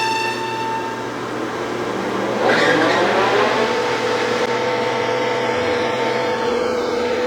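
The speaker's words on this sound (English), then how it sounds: "We're gonna polish this real quick while we're in the higher RPM." Lathe running at high RPM while polishing a replacement steel shaft for a farm implement, a steady loud machine whine and hum with a brighter, rougher swell from the polishing midway, no talk.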